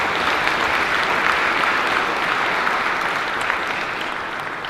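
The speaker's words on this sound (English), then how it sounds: "I'd like to give him a round of applause." Audience applause at a high school concert, dense sustained clapping from a large crowd, loud and steady throughout and easing slightly toward the end, with no speech over it.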